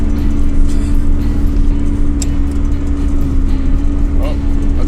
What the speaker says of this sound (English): I think we're losing part of the exhaust.